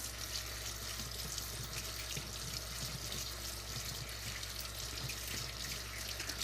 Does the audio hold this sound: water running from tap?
yes